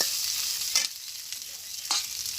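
Pointed gourd (potol) bhaji sizzles steadily in a pan, a continuous hiss of frying broken by a couple of brief louder stirring scrapes.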